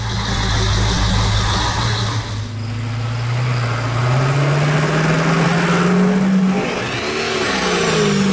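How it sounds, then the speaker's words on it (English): A 1968 Pontiac LeMans engine runs loud and steady from inside the car, its low rumble holding throughout and rising in pitch as it revs up partway through, with no talking. "Everybody came here to see the car run."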